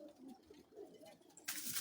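Pigeons coo softly in a few low, rounded calls at moderate distance, followed by a sudden burst of hissy noise near the end.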